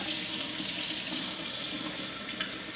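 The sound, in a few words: tap water running from faucet into container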